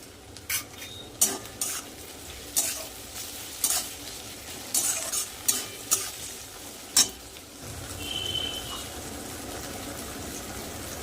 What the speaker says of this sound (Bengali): পেঁয়াজটা আমি লাল লাল করে ভেজে নেব পেঁয়াজ কিন্তু লাল লাল করে ভেজে নিয়েছি কেটে রাখা টমেটো দিয়ে দেবো